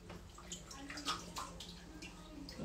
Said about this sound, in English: just kind of dunking it a few times just to really make sure that shampoo is coming out